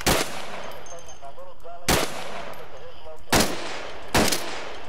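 Four sharp, loud single gunshots in the military shooter Arma 2, spaced unevenly over a few seconds, each ringing briefly with no talk between them.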